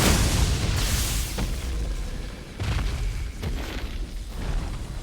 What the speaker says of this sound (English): it causes the nuke that happens when you're fighting Placidusax